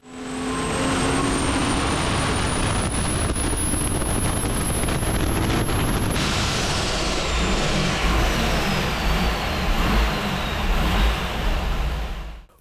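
Turbocharged engine making a high-RPM dyno pull, aimed at a record near 1,000 horsepower and run through a stock-style intake manifold and headers, gives a loud, steady roar that sustains across the whole stretch with a rising tone and no talk.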